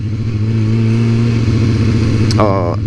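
A stunt motorcycle engine idles at a slightly high, steady rumble close by, with a brief blip or clatter near the end and no talking.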